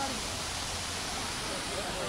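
Steady whooshing of a monsoon waterfall at Matheran hill station fills the air, a uniform wash of water noise from a distance with no breaks.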